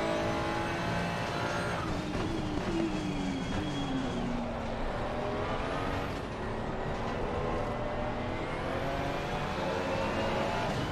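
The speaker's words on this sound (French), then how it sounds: "il y a beaucoup de Ferrari" Several Ferrari race cars in the racing game Assetto Corsa Competizione, engines droning and shifting pitch steadily as the pack runs together, continuous and moderately loud.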